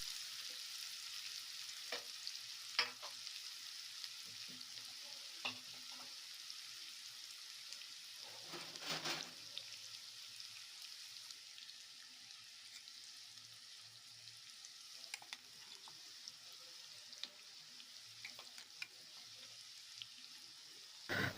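Pav bhaji masala frying in a pan with a spoonful of chilli powder, a soft steady sizzle with occasional stirring clinks and scrapes, fairly quiet and close, no voices.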